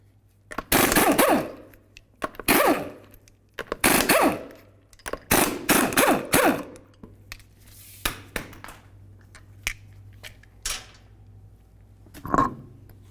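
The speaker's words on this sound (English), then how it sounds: "remove all 5 of your 19mm lug nuts and then the wheel" An impact wrench removing the 19mm lug nuts from the front wheel of a 2002-2006 Honda CR-V, firing in several loud, rattling bursts, then weaker spaced taps and a last short burst near the end.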